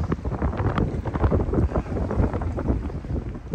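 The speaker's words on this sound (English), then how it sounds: "the wind blowing through the trees" Wind gusts by a lake in Robbers Cave State Park, a loud, rough, fluttering rush buffeting the microphone continuously, with no voices.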